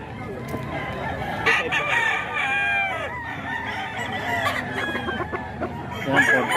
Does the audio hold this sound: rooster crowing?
yes